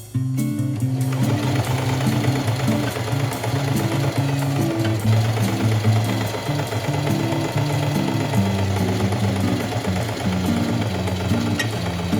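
A sewing machine stitching a long spiral ruffle trim onto the bottom edge of an orange Y2K bandeau halter top, a close, steady rapid chatter that continues without pause throughout.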